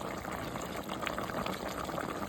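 Chicken adobo with chicken legs simmers and boils in a pot, a steady close bubbling and hissing of liquid with no break and no voices.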